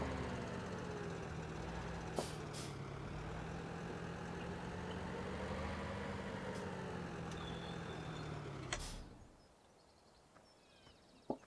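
A tractor engine idles steadily in Farming Simulator 17 while being parked, a continuous low rumble with a few brief clicks, then it cuts off abruptly near the end, leaving near silence.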